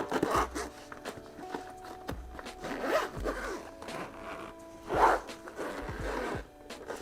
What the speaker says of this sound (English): It zips up.